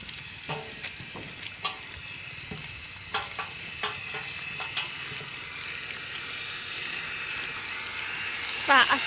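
Steady rushing hiss of water spraying from a motor pump onto a village house wall, continuous and moderately loud, with scattered clicks and knocks on top and a brief stronger burst at the end.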